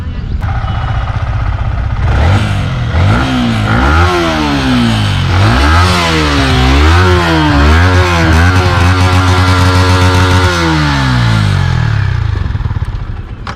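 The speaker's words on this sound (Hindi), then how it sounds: "इनको थोड़ा एग्जॉस्ट साउंड वगैरह सुनाओ" A Yamaha MT15 motorcycle engine revs up and down several times, loud and close, climbing and falling before easing back toward idle.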